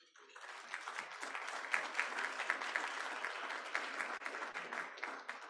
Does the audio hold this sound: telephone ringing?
no